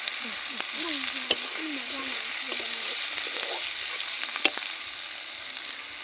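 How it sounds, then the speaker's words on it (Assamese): Steady oily sizzling of onions frying in a pan, with occasional clinks of a spoon stirring, continuous and close. "পিয়াজটো অলপ যেতিয়ালৈকে ৰঙা নহয় তেতিয়ালৈকে অলপ ভাজি লওঁ।"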